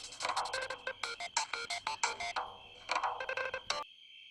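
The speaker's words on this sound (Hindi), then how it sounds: "देखना किसका फोन है।" A mobile phone plays a ringtone: a rapid, bright, rhythmic melody of repeated tones lasting several seconds, close and clear, then abruptly cut off into silence.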